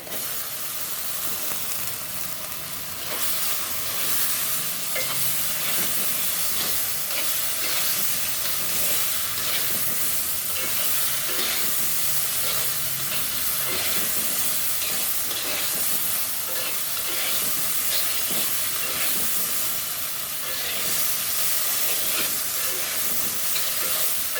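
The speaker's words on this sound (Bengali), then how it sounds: "দেখো মশলাটা কষানো হয়ে গেছে আমি এখন দিয়ে দিব ঝিঙে" Ridge gourd sizzles steadily in oil with a fried spice masala, giving a continuous close hiss with a few stirring scrapes, heard alone.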